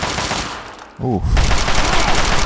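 Gunfire in Fallout 3: after a short lull, a burst of loud rapid shots breaks out and keeps going over the game's background sound.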